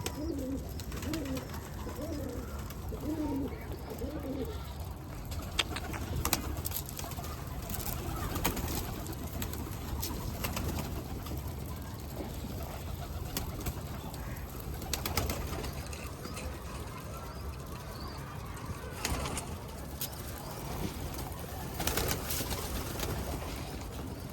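Mardin pigeons cooing in repeated soft rolling calls through a noisy outdoor background, with occasional rustles and knocks, steady throughout and no talk.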